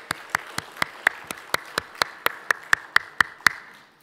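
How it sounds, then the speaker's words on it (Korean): A church congregation claps for a child, but only a few people join in: sharp, evenly spaced single claps ring out one after another, close and distinct, and fade out near the end. "우리 준기한테 격려의 박수 한번 해주세요."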